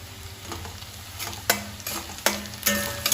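Sliced onions and curry leaves sauté in a hot pan for chappati leftovers, with steady sizzling, stirring scrapes and several sharp clatters of a spoon against the pan.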